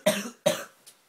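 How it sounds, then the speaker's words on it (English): A person coughs twice in quick succession, loud and close, followed by a faint short breath or throat sound, with no talking. "Stop coughing, what's that?"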